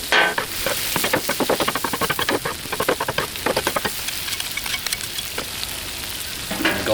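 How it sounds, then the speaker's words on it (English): Pork tenderloin bites in a mandarin sauce sizzle and bubble on a Blackstone griddle outdoors in the rain, with steady frying hiss broken by a series of sharp scraping and stirring strokes, close and fairly loud. "let the sauce cook down a little bit before I put it in the serving dish"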